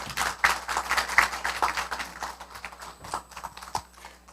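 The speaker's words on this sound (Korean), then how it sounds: "큰 박수로 환영해 주시기 바랍니다" Audience at a Busan fisheries policy forum welcomes the panelists with moderate, uneven clapping that fades toward the end.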